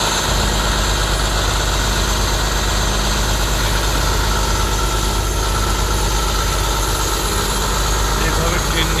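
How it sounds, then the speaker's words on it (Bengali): A large debris cleanup truck idling after a hurricane in Florida, a loud, constant low engine rumble and vibration throughout, with people talking over it. "এটা ডিফারেন্ট টাইপ অফ ট্রাক"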